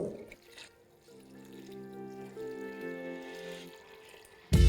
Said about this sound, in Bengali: এবার এর মধ্যে দিয়ে দিন পরিমাণ মতো জল